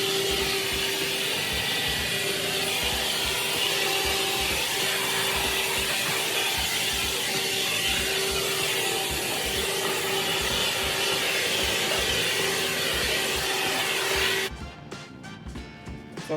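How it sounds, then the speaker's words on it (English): An Aldi leaf blower clearing leaves and dirt off a porch, a loud steady whine with a sustained tone that holds for about fourteen seconds, then cuts out abruptly to quieter clattering. "Then I just wanted to blow any excess leaves and dirt off. If anyone was interested, I got this particular blower from Aldi's."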